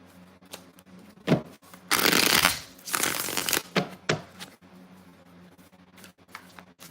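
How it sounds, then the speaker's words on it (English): Tarot cards being shuffled by hand during a reading: a few quick riffles and slides, with one long, loud burst of shuffling in the middle and softer card taps before and after. "Two more shuffles."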